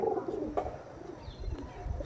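Domestic pigeons of an old breed cooing in a loft, several low throaty coos in a soft repeating rhythm, close by and moderately loud, with no talk.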